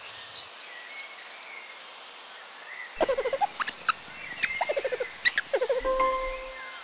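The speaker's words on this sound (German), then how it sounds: "Wie klingt der Lemur?" A lemur calls in rapid bursts of high, clicking chirps and squeaky calls in repeated clusters, loud and close, following a quiet stretch of soft ambient noise.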